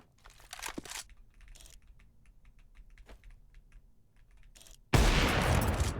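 Gunshots in a video game: a sudden loud burst of gunfire near the end, after quiet stretches of keyboard typing and a few soft clicks.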